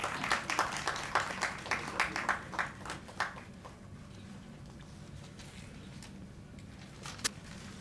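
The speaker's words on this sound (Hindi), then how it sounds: "तालियां बजती रहनी चाहिए" Clapping from a book launch audience, a few rhythmic claps that soon die away into quiet room tone, with one last isolated clap near the end.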